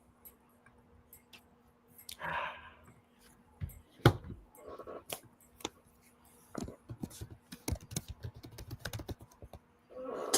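Keystrokes on a computer keyboard tap out in irregular bursts, close and fairly quiet against a low steady hum, with occasional louder clacks.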